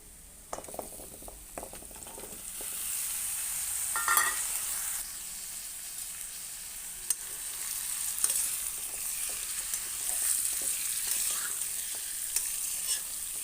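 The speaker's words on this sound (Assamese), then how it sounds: "এয়া কাটি থোৱা ৰঙালাওখিনি মই এতিয়া ইয়াত দি দিছোঁ।" Sliced pumpkin fries with turmeric in a pan, giving a steady, close sizzle with occasional clinks and scrapes of stirring, and no talking.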